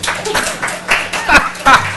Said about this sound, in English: That is the easiest way to get applause I've ever heard in my whole life.